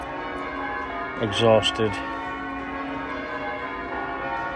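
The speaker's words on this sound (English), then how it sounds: "How long are these bells going to go on for?" Church bells ring on the trail of the Pendle witches, a steady layered peal sounding throughout while a voice speaks briefly over it.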